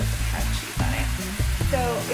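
Sandwich meat fries in a pan under slices of melting provolone cheese, giving a steady low sizzle with occasional scrapes and stirring clatter.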